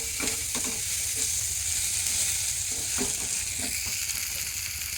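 Onions frying in a pan give a steady close sizzle with scattered crackles and a few light stirring clicks throughout, no talking.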